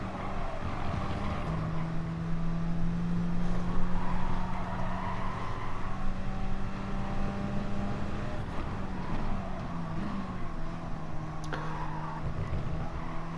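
An Alfa Romeo 4C racing car, mid-engined and rear-wheel drive, drones steadily in a racing video game, its engine note holding and shifting pitch as it accelerates through corners, loud and continuous with no voices.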